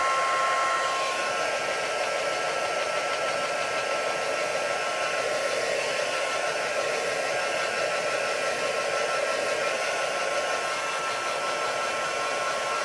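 A hair dryer blows steadily to dry a small concentrated puddle, a constant close whooshing hiss with a faint whine, unbroken for the whole stretch and with no talk.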